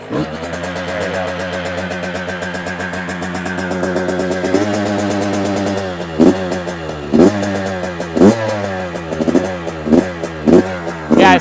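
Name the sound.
Yamaha YZ85 dirt bike engine running after kick start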